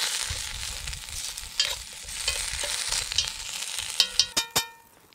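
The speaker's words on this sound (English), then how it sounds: "It's sizzling away there." Potatoes sizzle in a cast camp oven over an open fire, a steady frying hiss with stirring scrapes, ending in several clear metallic clanks as the heavy lid is handled.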